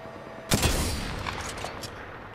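A loud burst of gunfire in a shooter video game, a sharp initial volley followed by a rattling string of quieter shots trailing off over a couple of seconds.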